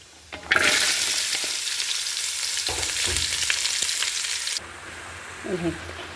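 Mustard seeds spluttering in hot oil in a pan, a loud bright crackling hiss that starts abruptly and holds steady for about four seconds before cutting off, followed by quieter clinks.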